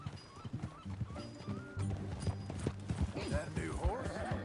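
Horse hooves clop rhythmically at a steady pace in Red Dead Redemption 2, with a horse snorting and people talking over the hoofbeats.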